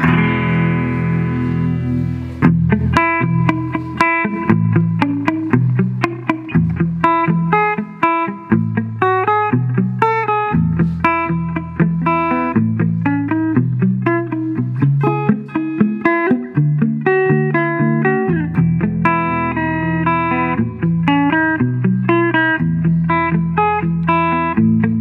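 A 2021 Gretsch Blue Penguin electric guitar played through a 1960s Fender Twin Reverb amp, ringing chords and picked melodic lines with reverb, loud and continuous for the whole stretch, with no talk.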